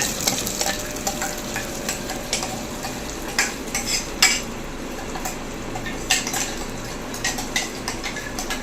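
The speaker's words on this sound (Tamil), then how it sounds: "இந்த பேஸ்ட் வந்து இதுக்குள்ளே போட்டு நம்ம நல்லா வதக்கிக்கலாம்." Ground paste sautéing in hot oil for a homemade pizza sauce, a steady close sizzle with repeated clinks of a spoon stirring against the pan.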